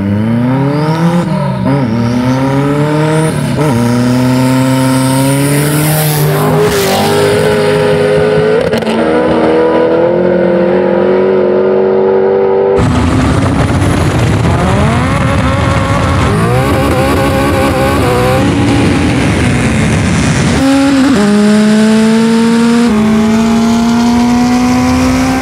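LS-swapped Subaru BRZ and 650hp Honda Civic in a no-prep drag race, loud engines revving hard with rising and falling pitch through repeated gear shifts, close and continuous with no talk.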